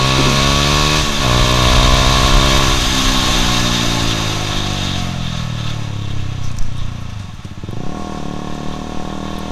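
A Honda CBR150R Repsol Edition motorcycle revs hard on a test ride, its engine pitch climbing through successive gears with short drops at each shift, loud and close throughout before easing off near the end.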